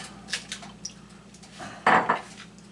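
An egg cracks against a bowl for an egg wash: a few light taps and clinks, then a sharper crack and a short splat, close and fairly quiet in a kitchen.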